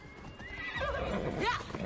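A hell horse in a video game whinnies with a long, wavering neigh that rises and falls in pitch, moderately loud over a steady bed of game background noise.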